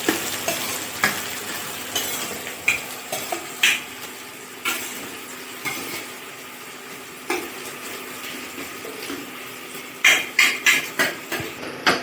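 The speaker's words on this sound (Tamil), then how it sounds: "நல்லா கொஞ்சம் வெங்காயம் வதங்கணும்." Onions for chicken curry sauté in a pan, a soft steady sizzle broken by repeated sharp spoon taps and stirring scrapes, close by with no talk.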